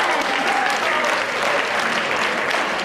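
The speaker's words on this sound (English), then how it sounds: "So let's give a round of applause for John." A pageant audience gives dense, steady applause, a broad wash of many hands clapping at once throughout, loud and sustained with crowd noise mixed in.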